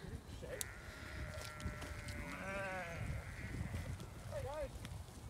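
Sheep bleat on a farm in the Peak District during lambing season, with several wavering calls close by amid constant background noise and a person talking.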